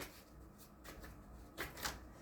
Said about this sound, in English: So let me do a quick shuffle.